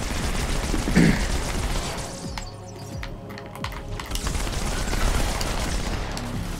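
Dense, rapid gunfire from two weapons fired at once in the Halo 2 video game, a continuous rattling burst that dominates the clip with brief lulls.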